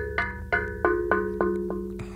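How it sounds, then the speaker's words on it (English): Knuckles rap a metal pipe in an abandoned factory, seven ringing knocks in an irregular rhythm, each leaving a bright resonant tone that decays, recorded close and fairly quiet. "I think I'm just using my knuckles on a pipe."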